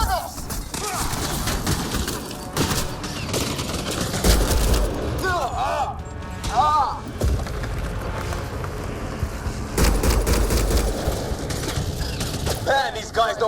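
Gunfire in the Xbox One game Mass Effect Andromeda comes as dense, ragged bursts and sharp cracks. Shouting voices break in between the volleys.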